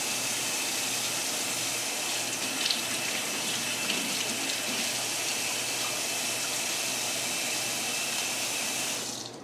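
Mead runs through a siphon hose during bottling, a steady, close gush of flowing liquid that holds constant for about nine seconds and then cuts off.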